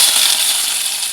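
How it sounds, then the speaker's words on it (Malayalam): Mustard seeds crackling in hot oil in a home kitchen pan, a steady bright sputtering hiss, loud and close, without talk. "നമുക്ക് കടുക് പൊട്ടട്ടെ"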